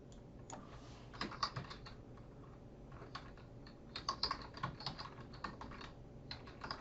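Soft clicking of keys on a computer keyboard, typed in short irregular bursts, quiet and close with no voices.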